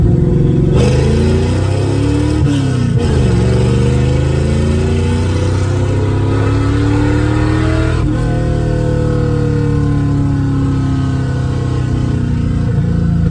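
A car engine, running smoothly after a fuel pressure fix, revs loudly and close, climbing and falling through several throttle blips over a steady idle drone, with no voices.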